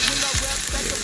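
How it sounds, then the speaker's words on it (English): Scallops sear in browning butter in a hot pan, a loud, steady close sizzle with crackling pops and a couple of low thumps as they hit the pan. "That nice sizzle when you go."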